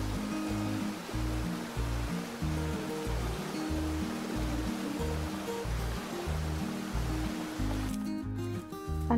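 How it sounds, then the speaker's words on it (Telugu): Irrigation water flowing into farm fields, a steady rushing wash with a regular low pulsing thump like a pump, continuous and fairly close, no talk. "ఇక్కడ వాటర్ వేస్తున్నారు పొలాలకి."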